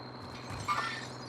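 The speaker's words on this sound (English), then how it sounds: "We heard the glass break." Glass shatters in the video game Warzone, a short crisp break standing out over a steady background of game ambience.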